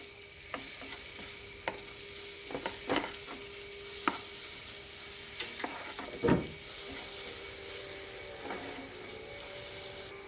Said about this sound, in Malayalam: ഇനി ഇതിലേക്ക് 1 സ്പൂൺ ബട്ടർ ചേർക്കാം